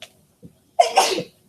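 A single sharp sneeze bursts out close by in a classroom, preceded by a faint inhale, with no talking.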